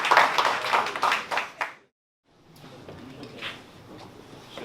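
A small group claps hands at a pitch party, a burst of fairly close clapping that fades after two seconds, followed by soft scattered taps and room noise.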